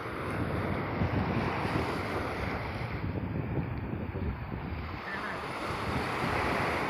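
Ocean waves and wind at Chidiya Tapu on the Andaman coast, a steady broadband wash of surf with gusty wind buffeting the microphone, continuous and fairly loud with no voices.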